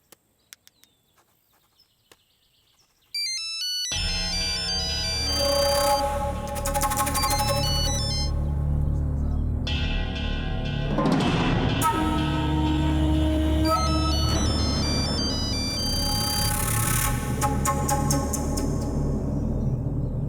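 A telephone ringtone goes unanswered, playing a bright, repeating melodic tune loudly and steadily after a few faint clicks, with no one picking up.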